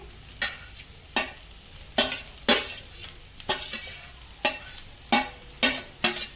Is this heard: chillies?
yes